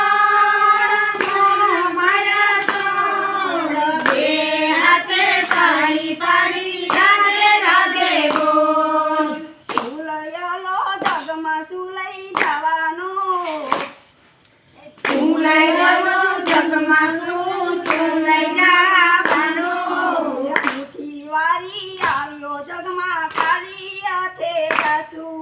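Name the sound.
rhythmic hand clapping during devotional bhajan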